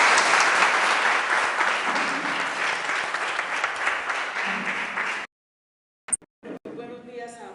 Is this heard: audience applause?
yes